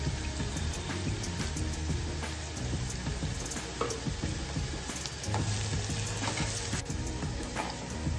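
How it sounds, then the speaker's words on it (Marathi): Asafoetida dropped into hot oil for a monsoon wild-vegetable curry, giving a steady, close sizzle and crackle of frying that runs for the whole span with faint clinks of stirring. "आता हिंग घालूया।"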